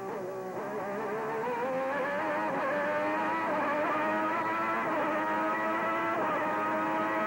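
A Formula 1 race car at the 1990 Australian Grand Prix screams loudly and continuously, its engine pitch dipping as the driver lifts off, then climbing again under acceleration, with no talk heard.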